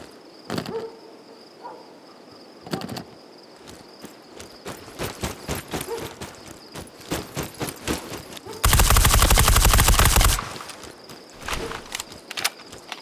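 Gunfire in the tactical shooter Ground Branch, with sharp single shots in an irregular rhythm, then a dense sustained burst of automatic fire, loud and close, with no talking.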